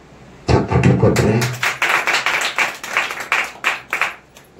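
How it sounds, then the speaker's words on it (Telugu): An audience at a Sunday church gathering claps, starting with a loud burst and settling into a rhythmic run of sharp, close hand claps. "చప్పట్లు కొట్టే"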